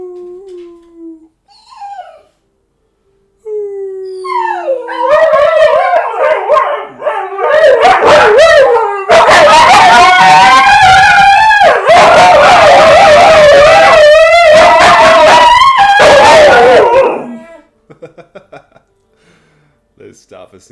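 Several dogs howl together loudly and close, rising into long overlapping wavering howls with yips and barks mixed in, after a voice briefly imitates a howl to set them off.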